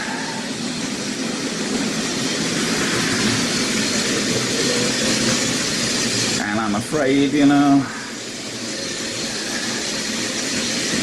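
A Hornby OO gauge model train hauled by Black 5 locomotives runs steadily along the track, a continuous rolling rumble that carries through the whole stretch, briefly overlaid by someone talking.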